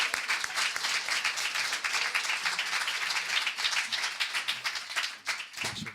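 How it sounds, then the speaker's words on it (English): An audience gives speaker Richard a warm round of applause, dense and sustained clapping that carries on steadily before thinning out near the end. "if you want to give a really warm round of applause for Richard"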